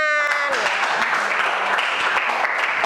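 A classroom audience bursts into brief clapping, loud and dense for a few seconds, after a voice starts it off.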